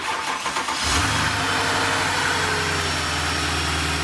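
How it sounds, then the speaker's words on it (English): A Mercedes V8 engine fires up and settles into a deep, smooth, powerful idle, steady and close by with no talking. "It sounds really serious. Like it's a V8, but it's smooth. Very smooth."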